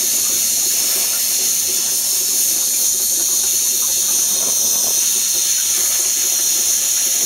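An HHO torch flame roars and hisses steadily while melting glass, a loud, close, continuous airy rush that barely changes over several seconds, with no voices.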